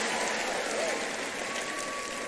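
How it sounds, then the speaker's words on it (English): A church congregation claps together in a sustained burst of praise, a dense, even wash of hand claps filling a large hall at moderate loudness. "Give the Lord a big, big clap of praise."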